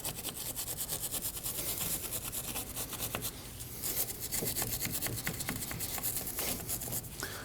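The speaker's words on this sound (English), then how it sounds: "And we can clean up the bore with a brush." Brush scrubbing the hub bore of a 2003-2006 Subaru Baja during rear wheel bearing replacement, with brake parts cleaner; a steady close-up rasping scrub with rapid repeated strokes running throughout, without talk.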